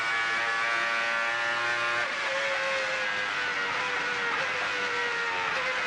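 Renault Espace F1 engine on a race track, a loud sustained mechanical whine with a distinct pitch shift as it shifts through gears, heard close from onboard without talk.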